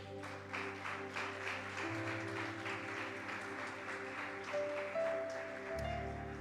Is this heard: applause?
yes